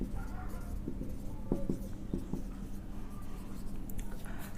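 Chalk or marker tapping and scraping across a board while an equation is written, a string of short, light strokes over a steady, noisy room background.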